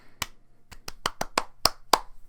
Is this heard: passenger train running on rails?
no